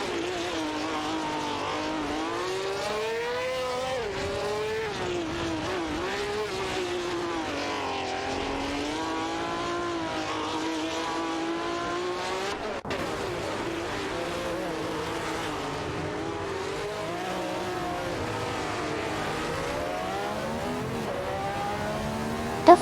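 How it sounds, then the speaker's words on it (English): Formula race cars, including a Lotus 72D and a Tyrrell, battle wheel to wheel in a racing video game. Engines whine and shift pitch continuously at a steady moderate level, with several cars overlapping, and no voices. "A close battle is developing between Suzanne Greenberg in her Lotus 72 Deed and Ayantha Krabi in a Tyrrell, 2 for the P2 position"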